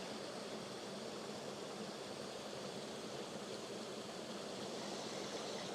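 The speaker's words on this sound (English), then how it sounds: "just listen to the water rush by it" Stream water rushes past the remnants of an old dam near a WWI-era copper mine site, a soft, continuous broadband roar that stays even throughout without voices.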